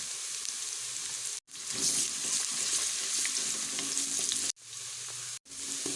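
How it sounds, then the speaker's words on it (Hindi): Onions with ginger garlic paste sizzle steadily in a hot pan, with a continuous close frying hiss and brief gaps where stirring pauses. "अदरक लहसुन का पेस्ट और प्याज फ्राई हो गया है।"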